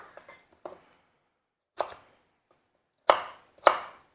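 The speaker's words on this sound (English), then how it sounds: "So just cubing them up." Sweet potatoes being cubed on a cutting board: a few light taps, then sparse knife chops with two sharp, loud strikes near the end, close up with quiet gaps between them.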